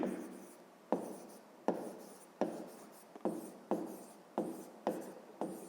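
A pen writes on paper up close, working through a fifth-grade math problem in about eight quick repeated strokes with tapping starts, soft and steady with no voices.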